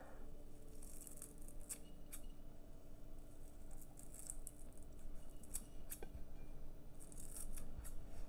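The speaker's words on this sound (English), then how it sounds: "these are the little shears that I was telling you about, and I'm just going to go ahead and cut my parsley." Small kitchen shears snip fresh parsley in a quiet kitchen, giving a handful of faint, crisp, irregular cuts over a low steady background hiss.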